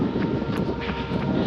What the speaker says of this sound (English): It's so windy today, I can't tell you.